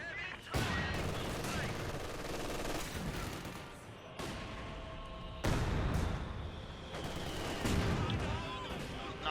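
Machine gun fire and fusillades from a Company of Heroes 2 battle, with a T-35 tank and Soviet combat engineers in the fight, crackle in continuous dense bursts with heavier thuds. Commentary runs over the gunfire.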